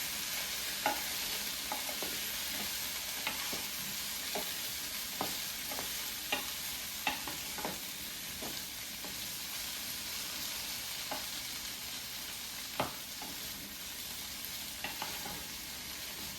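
Boiled potatoes and other breakfast burrito fillings sautéing in a pan, a soft steady sizzle with scattered light clicks and taps from stirring, no voices.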